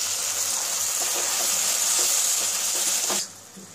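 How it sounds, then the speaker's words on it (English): Water is poured into a sizzling egg masala curry cooking in a Kerala-style pan, giving a steady loud hiss and bubbling that carries on for about three seconds and then drops away abruptly. "Now we are going to add some water to this because to make it a curry."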